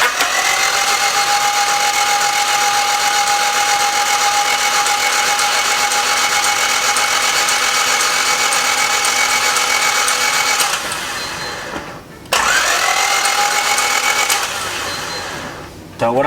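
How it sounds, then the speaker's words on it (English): A D16Z6 engine is cranked over without starting, a loud steady starter whine that runs for about ten seconds, cuts out briefly, then resumes for a second long crank. "turn and crank the engine over several times to get that oil up and down in the cylinders"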